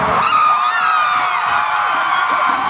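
A huge stadium crowd at a concert at Stanford Stadium cheers and screams in a continuous high-pitched roar that stays loud and steady throughout.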